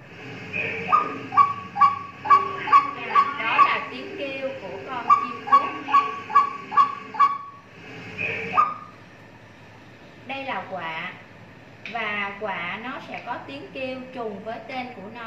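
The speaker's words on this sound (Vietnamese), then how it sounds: "Với tên của nó là" A crow calls in repeated harsh, rhythmic caws, a fast run of evenly spaced calls, a pause, then another series and looser, scratchier calls, all fairly close and clear.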